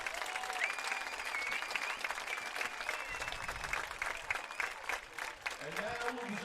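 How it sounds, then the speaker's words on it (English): Crowd applause at a boys' lacrosse state championship award ceremony, steady clapping from a gathered audience lasting throughout, with voices mixed in underneath. "Big round of applause for our Class B runner-up."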